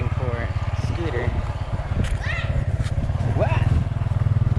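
A motor scooter engine putters close by with a steady, throbbing low drone, while people talk over it with excited voices and chatter.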